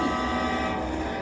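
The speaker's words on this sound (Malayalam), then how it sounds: "ട്രെയിൻ പോകുന്നു guys." A train rumbles past nearby with a steady, continuous roar of wheels and cars, loud and unbroken for the short moment.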